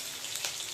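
Chopped onion frying in a pan at home, a continuous fine crackling sizzle, close and fairly quiet, with no voices.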